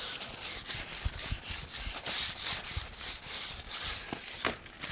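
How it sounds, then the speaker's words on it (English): Wax paper rubs back and forth along a vinyl window track, a close, rhythmic scraping and swishing with repeated strokes roughly every half second, steady throughout. "Just work it in with the wax paper. Right on the bottom there."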